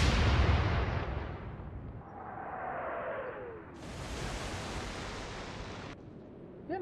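In a naval warfare game, a battleship fires high explosive shells: a heavy booming blast opens, then a rushing roar and whistling shell flight fade, followed by a sustained wash of noise that cuts off abruptly.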